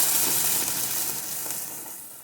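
Onion-tomato paste poured into a hot pan for chicken seekh kabab masala gives a bright, close hissing sizzle that starts loud and gradually fades over a couple of seconds, with no voices.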